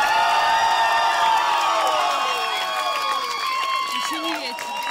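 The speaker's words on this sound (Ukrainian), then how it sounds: "ваші оплески Ірині." Audience at an outdoor karaoke show on a city square applauding and cheering for contestant Iryna, a loud, close crowd sound of clapping mixed with shouts and whoops, with voices and pitched tones running through it.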